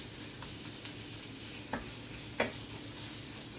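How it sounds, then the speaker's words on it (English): Tomato paste sautéing in a pan gives a steady, dense sizzle, with three brief scraping taps of a spoon spaced about a second apart, close by and alone. "I'm actually going to saute this tomato paste a little bit"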